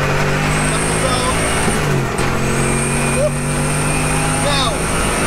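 A home-built 750bhp Lexus LS400 drift car engine revs hard in second gear, a loud sustained drone with steady harmonics and a brief dip mid-pull, heard from inside the car.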